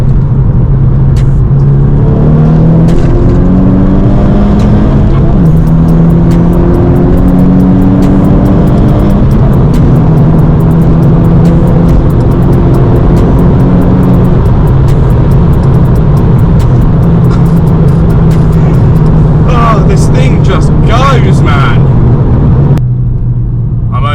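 Turbocharged 350 bhp Volkswagen Scirocco R accelerating at night, a loud in-cabin engine roar rising through the gears with pitch climbing and dropping at shifts, ending with a cut and higher-pitched turbo whoosh and chatter.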